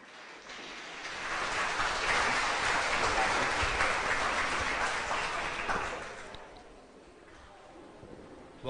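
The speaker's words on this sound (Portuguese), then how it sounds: "Vamos receber o Edson com um caloroso aplauso de agradecimento por disponibilizar o GEMB para a realização desse evento." An audience applauds to welcome the speaker Edson at an event, a steady burst of clapping several seconds long that swells and then fades.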